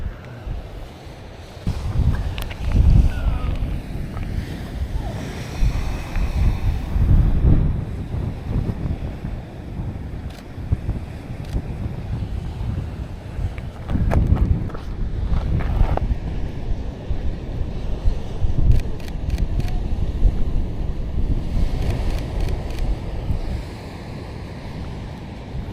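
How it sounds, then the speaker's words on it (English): Steady wind buffets the microphone on the coast at Ka'ena Point, Oahu, a continuous low roar with gusty swells and a surf-like wash, lasting throughout with no voices. "The wind is pushing this tape way up."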